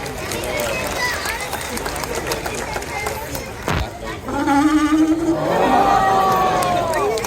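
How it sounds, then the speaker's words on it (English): An audience at a zoo seal presentation applauds and cheers for Pepper the seal, a loud burst of clapping and crowd noise rising in the second half after a presenter's voice. "How about a round of applause?"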